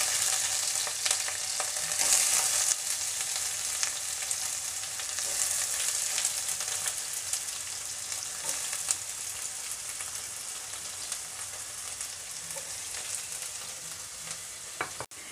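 Onion frying in a pan for Kerala-style aloo palak makes a steady, close, dense sizzle and crackle that runs unbroken the whole time, with faint scattered pops and no voices.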